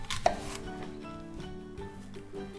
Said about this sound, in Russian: А затем каждый кусочек я нарезаю кубиками.